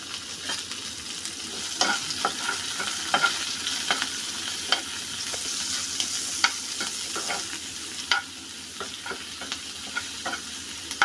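Chopped medium onion sizzling in a pan with masala pasta, stirred with a spatula that scrapes and taps in an uneven rhythm over a steady close frying hiss.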